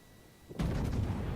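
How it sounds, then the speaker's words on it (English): Warship main guns fire in the naval combat game World of Warships, a single sudden heavy boom that rolls into a long loud rumbling tail. "Got to get some shots off."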